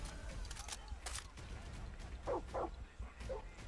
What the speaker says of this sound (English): All I hear is a dog.